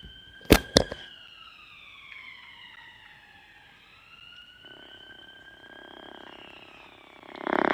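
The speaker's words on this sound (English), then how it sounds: "We hear the sirens from our effects mic." Two sharp knocks up front, then sirens wail in the distance during a Middlesex vs Surrey cricket match, their pitch sliding up and down over faint background noise.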